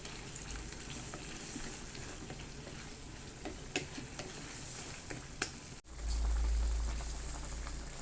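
Tomatoes and milkfish sauté, then the mix bubbles and sizzles steadily in a pan, with small pops and ticks, then a louder low rumble of boiling near the end; no voices.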